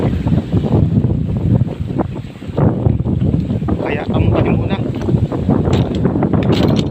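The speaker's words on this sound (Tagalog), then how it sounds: "malakas pang hangin" Strong wind roars and buffets continuously against the microphone by the sea, with someone talking briefly over the gusting noise and waves.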